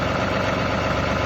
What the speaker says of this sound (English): So I'm going to move the tractor.